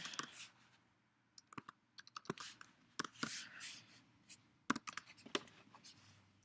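Computer keyboard keys pressed for Photoshop shortcuts, heard as scattered, sharp individual clicks and short bursts of typing, close and fairly quiet, with no talking.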